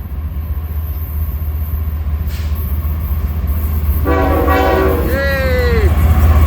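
Freight train passing close by, a loud steady rumble building as the horn sounds near the end, a harmonic blast that bends down in pitch.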